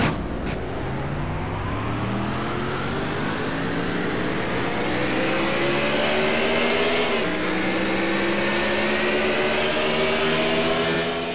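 NASCAR trucks race in a video game at the WinStar World Casino & Resort 400, their engines roaring loud and continuous with rising and falling pitch as they accelerate and shift, several motors layered together up close, no speech.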